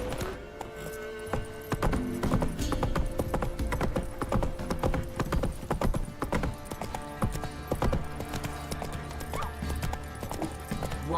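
Horse hooves clip-clopping at a steady trot in The Witcher 3: Wild Hunt, a continuous rhythmic clatter over game ambience, with faint voices at moments.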